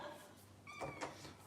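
A curious house cat gives a short meow-like call close by, with faint background noise and a brief human sound around it.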